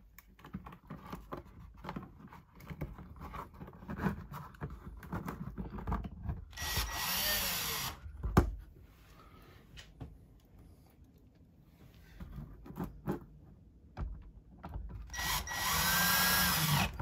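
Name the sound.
power drill screwing LED light fixture back in place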